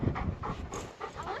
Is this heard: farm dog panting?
yes